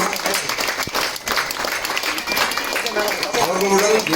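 An audience at a public felicitation event for a water scheme claps together, a continuous patter of many hands, with a voice speaking over the applause.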